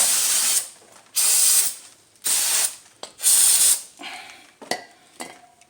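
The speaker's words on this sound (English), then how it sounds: "Put some brake cleaner on it." Brake cleaner sprayed onto the front brakes of a 2010 Honda Civic in several loud, hissing aerosol bursts, each about half a second long, followed by fainter clicks and drips.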